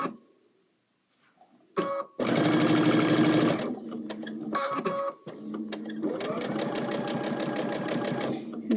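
A sewing machine stitching a quilt block runs in steady, fast bursts, with a short pause between runs, close and clear after a quiet start.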